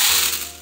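Hard Skittles candies pour out of a large 1.6 kg bag onto a freeze-dryer tray, a dense rattling clatter of many small pieces lasting under a second and fading toward the end.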